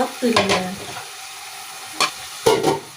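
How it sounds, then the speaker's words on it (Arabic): A spoonful of garlic and chopped onion sautéing in a pan for pasta sauce: a low sizzle broken by three short bursts of a spoon scraping and stirring against the pan, close and fairly loud; no talking. "حطيت معلقه ثوم وحطيت البصل وهشوحهم عشان اعمل بيهم الصلصه بتاعت المكرونه"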